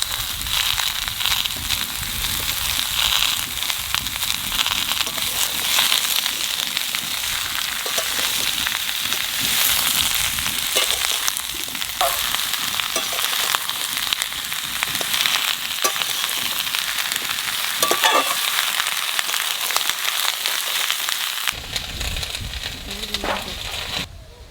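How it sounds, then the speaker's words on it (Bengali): Potatoes frying in a pan for a farm-fresh bottle gourd dish, a dense, steady sizzle with crackles and occasional stirring scrapes that runs loud and close throughout, then drops off near the end. "আলুটা একটু ভাজে নিচ্ছি, আনে লাউ দিয়ে দেবো।"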